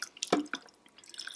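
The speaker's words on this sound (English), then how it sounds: "I'm probably gonna add a little bit more water to mine." Water added to rajma gravy in an Instant Pot, a few brief close splashy drips and a short trickle, fairly quiet and with no talk.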